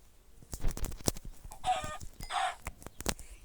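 Several video game chickens cluck in short, sharp bursts, with a couple of longer squawks in the middle, close and fairly loud against a quiet background.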